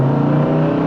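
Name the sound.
engine of a 1970 Dodge Dart Swinger 340 car revving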